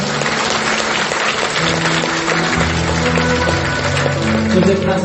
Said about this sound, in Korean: 우리를 부르신 하나님께 박수를 올리겠습니다.